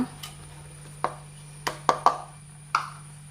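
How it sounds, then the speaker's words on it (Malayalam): Dry ingredients such as maida, cocoa powder and homemade almond flour are sifted for a choco-raffaello cake, heard as six or so sharp, light taps on a sieve at uneven intervals, quiet and close, with no talking. "ആദ്യം നമുക്ക് ഡ്രൈ ഇൻഗ്രീഡിയൻസ് ഒക്കെ ഒന്ന് അരിച്ചെടുക്കാം."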